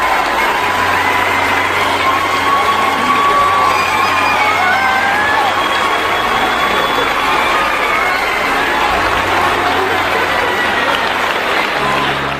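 An audience cheers and applauds loudly and continuously at a soldier's surprise homecoming reunion with his family, a dense wash of clapping with whoops and shouts throughout.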